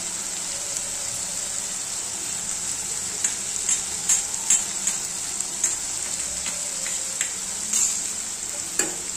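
Misal masala and red chili powder roasting in a pan, a soft continuous sizzle broken by sharp scraping and stirring knocks at irregular intervals.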